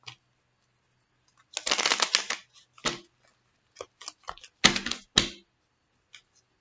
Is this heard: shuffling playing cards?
yes